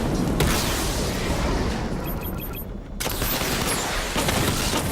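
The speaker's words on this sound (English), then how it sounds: "Charge up missile barrage to level 2 and destroy 4 active targets" The Batmobile fires a missile barrage in Batman: Arkham Knight, a dense roaring fusillade of blasts that dips briefly, then returns with a sharp onset and sustained rumbling explosions.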